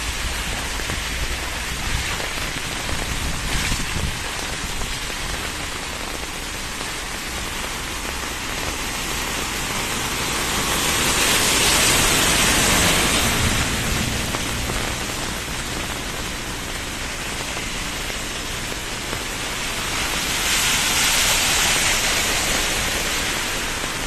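Heavy downpour during a rainstorm with street flooding, a dense steady hiss of rain on surfaces that swells louder twice and stays constant throughout, with no voices.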